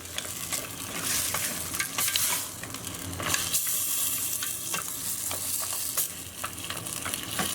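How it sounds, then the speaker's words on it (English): Mussels being stirred in a pot for Spanish mussels, with a loud, steady sizzle and frying hiss throughout and close scraping from the stirring on top. "Mix them around in there, get them well coated."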